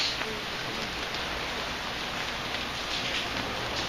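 Steady rain falling at an outdoor panda enclosure, a dense, even hiss of drops on surfaces, constant and fairly loud with no talk.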